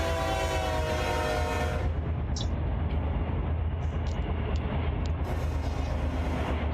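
A BNSF freight train hauling auto racks rolls past in the RUN8 train simulator, a steady loud low rumble of wheels and cars with a brighter tonal hiss early on and faint metallic clanks along the way.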